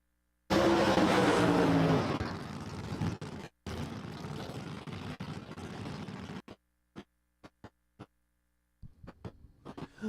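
Drag racing cars launch at Empire Dragway during qualifying, a loud roaring burst of engines that fades out, followed by faint intermittent clicks and distant bits of sound.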